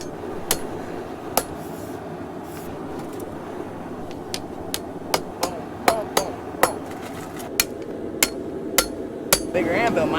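Hammer blows ring out on steel over an anvil while forging a cane sword blade, a dozen or so sharp, separate strikes at uneven intervals, close and loud above a steady workshop hum.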